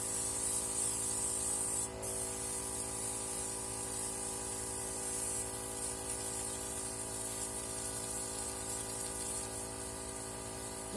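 An airbrush sprays makeup onto a face in one long, steady, soft hiss that continues almost unbroken for the whole stretch, with a faint hum beneath and no talking.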